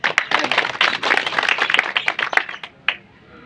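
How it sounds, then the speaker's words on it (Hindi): A gathering of villagers at a political party meeting claps loudly in welcome, a crisp, busy patter of many hands that thins out and stops near the end, leaving a few scattered claps. "जोरदार तालियों से एक बार"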